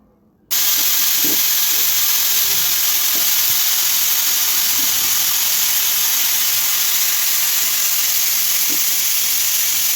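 A pressure cooker with its lid locked, cooking beef on high heat, gives off a loud, steady hiss that starts abruptly and holds unbroken, with faint clinks beneath.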